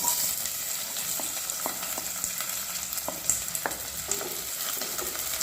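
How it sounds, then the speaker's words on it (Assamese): Chopped onions fry in hot mustard oil in a kadai for a chicken with mustard greens dish, giving a continuous close sizzle broken by light spatula scrapes and small pops. "তেল গৰম হ'ল এতিয়া ইয়াত কাটি থোৱা পিঁয়াজখিনি দি দিম।"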